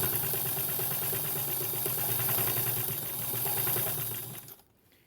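A sewing machine stitches down the folded binding on a scrappy quilted tree skirt, a steady close mechanical whirr with rapid needle pulses running for several seconds before stopping abruptly.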